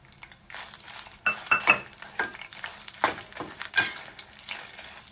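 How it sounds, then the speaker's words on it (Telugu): Dried red chillies frying in a little oil for bitter gourd karam, a close crackling sizzle punctuated by several sharp stirring and scraping clinks against the pan. "ఇందులోనే ఎండుమిరపకాయలు, మన క్వాంటిటీకి సరిపడా ఎండుమిరపకాయలని కూడా వేయించి పక్కన పెట్టుకోవాలి."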